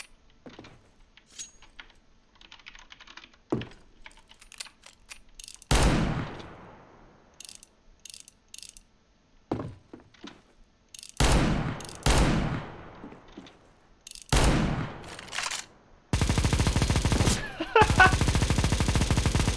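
Revolver shots ring out in a custom video game level: scattered single cracks, then several loud blasts with trailing echoes, ending in a dense sustained burst of fire.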